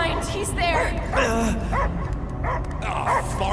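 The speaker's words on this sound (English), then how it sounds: "I hear only barking" Dog barking and whimpering in the Guardians of the Galaxy video game: a string of yips and whiny barks over steady background game sound and music.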